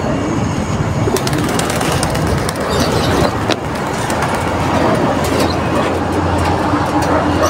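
Pigeons kept as backyard birds cooing and fluttering, a steady dense mix of soft coos and wing flaps with a constant background rumble throughout, no talk heard.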